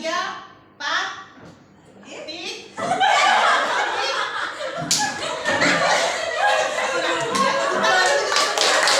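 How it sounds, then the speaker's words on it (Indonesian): An audience in a classroom or school gathering breaks into clapping mixed with chuckles and children's voices, loud and sustained after a few seconds of quieter murmuring, with talk underneath. "Ya, kita berikan tepuk tangan."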